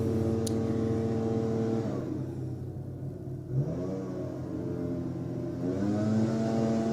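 A car engine revs loudly just outside a window, its roar rising and falling in pitch as it idles and accelerates again.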